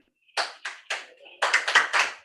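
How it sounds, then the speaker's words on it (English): A group claps in a set rhythmic pattern at a National Resistance Movement (NRM) symposium, with three spaced claps and then a quick cluster of claps, close and loud against silence. "Then we clap and receive the minister in the NRM way."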